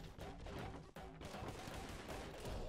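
Gunfire from the video game Anger Foot crackles in dense, continuous bursts with a brief gap near the middle, loud and busy throughout.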